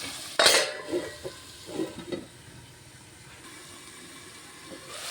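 A spoon stirs bitter gourd and tomato curry in a pan, with a sharp clatter near the start, a few scraping strokes, then a low faint sizzle fading to near quiet.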